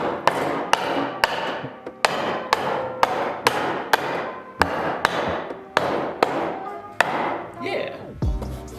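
Someone taps with the side of a hammer in about a dozen sharp, evenly spaced strikes, close and loud with a short ring after each hit. A scrape and a thud follow at the end.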